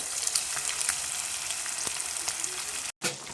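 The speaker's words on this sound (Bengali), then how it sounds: "এবার এর মধ্যে আমি একে একে পকোড়া সেভ করে পকোড়াগুলোকে ছেড়ে দিচ্ছি তেলের মধ্যে" Chicken pakoras deep-fry in hot oil with a steady, close bubbling sizzle and faint crackles. The sound cuts out abruptly for a split second before the sizzle resumes.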